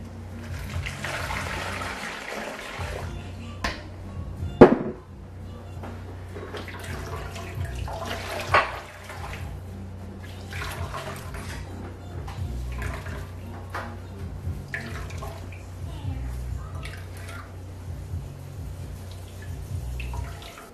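Homemade coconut milk being strained, with watery liquid pouring and splashing steadily for about twenty seconds, close and fairly loud, with a few sharper knocks along the way.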